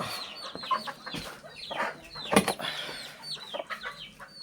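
Six young chicks in a backyard coop cluck and peep in a busy, overlapping chatter, close by and moderately loud, with a brief wing flutter in the middle.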